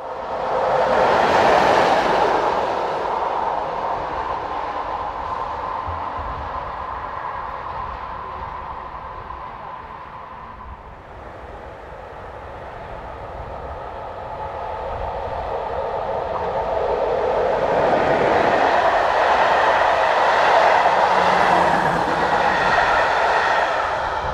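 A train passes along the Elbe valley near Usti nad Labem in the Czech Republic, a loud, steady rail roar that swells, dips briefly midway, then builds again with rolling wheel noise and no talk.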